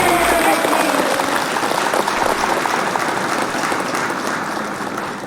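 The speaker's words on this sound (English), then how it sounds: "So you guys know that clap is for all of us." A studio audience at a live daily news podcast breaks into dense, sustained applause, loud and close, slowly tapering toward the end with no talking over it.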